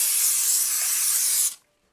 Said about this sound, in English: spray on just a little bit of Simple Green